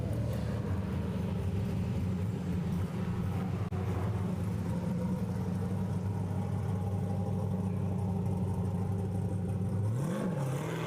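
A Nissan Silvia S15 drift car sits at the start line at a drift championship, its engine idling in a steady, droning mid-pitched hum with a short rev blip near the end.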